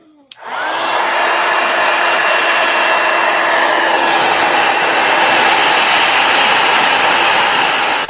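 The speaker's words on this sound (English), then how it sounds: "let me hit this with a heat gun real quick" A heat gun roars on in a loud, steady rush of hot air aimed at watercolor paper, sustained evenly for several seconds after a short click at the start.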